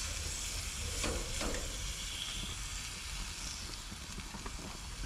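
Wild turkey pieces frying in a pan give a steady, close sizzle and hiss throughout, with a few brief clinks and stirring scrapes over the top.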